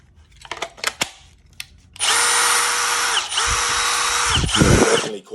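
A Milwaukee M18 FUEL SURGE 1/4-inch hex hydraulic driver runs in its third mode with a steady, fairly loud whine for about three seconds, briefly dips, then resumes. A few clicks and handling knocks come before it starts.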